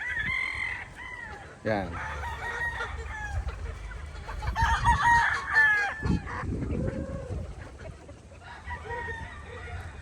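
Chickens and young chicks in a hardening pen cluck and crow nearby, with a rooster's call standing out among the busy poultry chatter, while someone briefly speaks over them.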